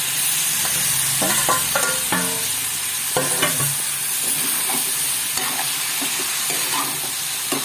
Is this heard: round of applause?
no